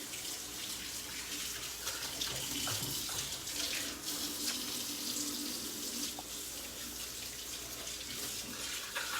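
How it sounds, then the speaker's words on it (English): A kitchen tap runs in a steady stream into the sink during hand washing, a continuous close splashing hiss with no talk over it. "Let me wash my hands real quick."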